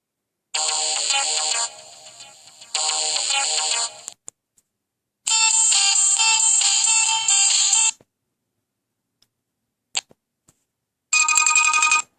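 Several different electronic ringtones on a Just5 J510 mobile phone play in short bursts separated by silences and faint clicks, each snippet cut off before the next begins.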